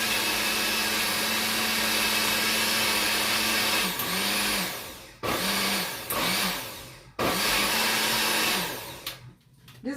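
An electric grinder whirs loudly and steadily while grinding cotton seeds, its motor briefly dipping and restarting several times before cutting off near the end.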